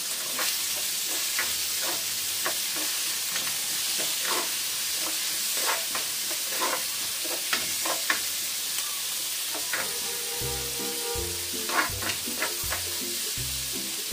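Pork for pochero sautéing in a pan, with a constant loud sizzle and repeated scraping, clattering strokes of stirring, and no voices.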